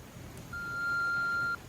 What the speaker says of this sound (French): Vous pouvez laisser un message après le bip sonore